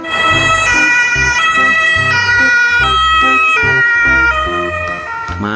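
A toy police car plays a loud, close electronic siren, stepping between high and low tones over a pulsing mechanical beat, continuous with no talking.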